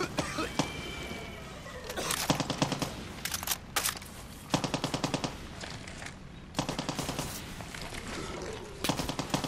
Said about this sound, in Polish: Ktoś tu strzela.